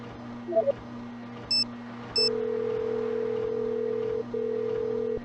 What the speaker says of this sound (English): Time to phone Alex again